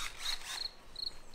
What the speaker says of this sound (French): Et vous entendez les grillons. Les grillons ils sont forts hein,